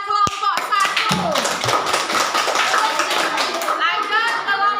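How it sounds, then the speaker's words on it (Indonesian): Classmates clapping for group 1 in a school classroom, a burst of quick, close hand claps and taps with children's voices chattering over and around them before it thins out. "tepuk tangan buat kelompok 1"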